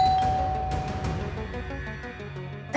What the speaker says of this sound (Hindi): दरवाजे की घंटी बजी है,